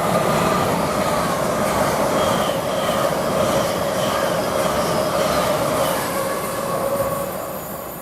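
An LNER train running from Dundee to London King's Cross passes through Grantham railway station with a loud, steady rumble of wheels and faint squealing. The sound stays close and continuous before easing slightly at the end.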